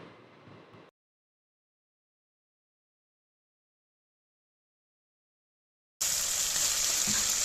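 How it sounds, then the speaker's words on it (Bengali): Duck meat masala sizzles in a pan on a clay stove. A short burst of frying cuts off into several seconds of silence, then loud, hissing sizzling returns with the scrape of stirring. "সামান্য একটু জল দিয়ে মশলাটা খুব ভালোভাবে কষিয়ে নেব"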